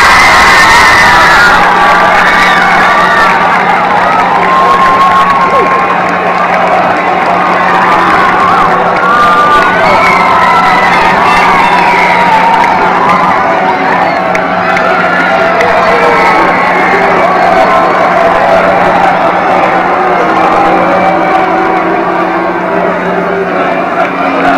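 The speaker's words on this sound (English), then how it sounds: "let's have a big round of applause for Spencer Bell and Morgan Dell" Crowd cheering and applauding at a college homecoming football game, a loud sustained roar of shouts and clapping from a large stadium audience, with a steady low hum beneath.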